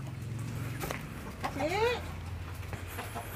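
A hen gives a rising squawk mid-clip over a steady background hum, with faint murmurs around it.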